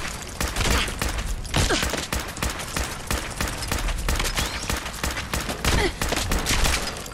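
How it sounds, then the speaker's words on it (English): Sustained bursts of combat rifle gunfire in the Fallout 4 video game, rapid repeated shots running continuously and loudly with little pause, backed by game action sounds. "This is the combat rifle. We've got loads of ammo for it, so this is what we're using at the moment."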